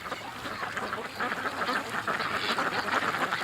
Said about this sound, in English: There's the little duck.